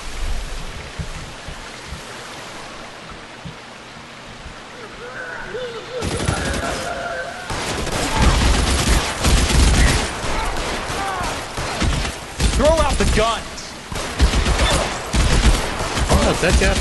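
Gunfire in a film action scene, a dense burst of rapid shots and impacts from about six seconds on, loud and continuous, with music-like tones and voices mixed in around it.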